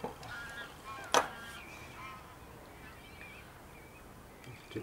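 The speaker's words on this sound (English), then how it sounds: "Egyptian goose flying." An Egyptian goose honks in flight over a lagoon early in the morning, a few hoarse calls with one sharp loud honk, against quiet open-air background.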